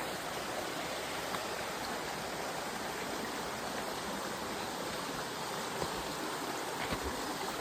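Rushing river water flowing steadily near a waterfall on a steep mountain trail, a continuous broadband roar that stays loud and even throughout, with no voices.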